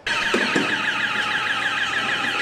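A loud, continuous electronic alarm wails in a rising and falling cycle during a night-time shop robbery, sounding close and unbroken for the whole stretch.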